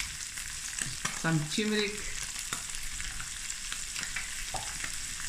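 Turmeric, black pepper and masala spices stirred and frying in a pan for a spicy Vienna sausage and egg smoortjie, a steady sizzle with brief scraping stirs and a short clatter, while a voice speaks briefly.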